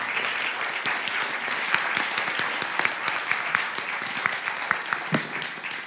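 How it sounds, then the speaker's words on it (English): An audience at a teacher town hall event in Birmingham applauds Chancellor Reed, steady crowd clapping that fills the room at an even level for several seconds. "a round of applause"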